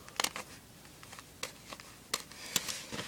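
A knife scraping and carving into a wooden clothespin, giving a series of short, dry scratchy strokes with uneven gaps between them, close up and fairly quiet.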